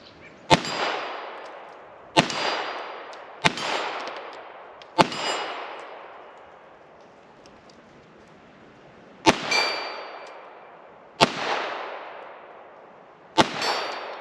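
A Ruger Mark II .22 LR semi-auto pistol, a 1989 vintage, rings steel plates at about 25, 50 and 80 yards: seven sharp metallic clangs at uneven intervals, each ringing out and decaying, with no talking.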